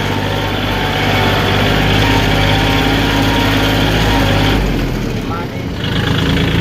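A Kubota L4018SP tractor engine held at about 2000 rpm while setting up a disc harrow, a loud steady close-up drone that dips briefly near the end before resuming, with someone talking over it.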